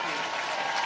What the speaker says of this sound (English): he gets a standing ovation from the home crowd here